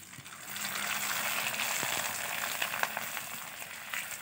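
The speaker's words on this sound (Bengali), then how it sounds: "পাতা পাঁপড় ভাজা হচ্ছে মা" Homemade papad frying in hot oil, a steady close sizzle with scattered crackles and pops running throughout.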